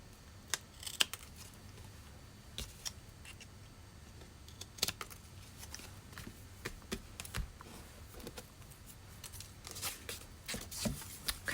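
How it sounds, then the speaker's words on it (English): Quiet, irregular snips and crisp paper rustles as scissors cut through paper up close, with soft handling noises between cuts. "I'm going to take my scissors and cut that extra off"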